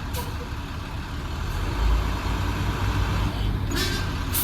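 A tractor-trailer truck lets off its brakes and creeps forward under a low, steady engine rumble, with a short hiss of air near the end.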